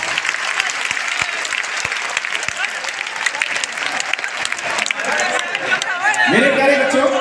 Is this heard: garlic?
no